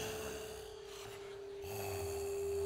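A voice imitates snoring: a couple of breathy, snorting inhales and exhales, close and fairly loud, with nothing else around it.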